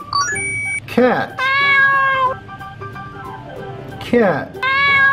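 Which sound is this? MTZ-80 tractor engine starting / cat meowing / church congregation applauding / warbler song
cat meowing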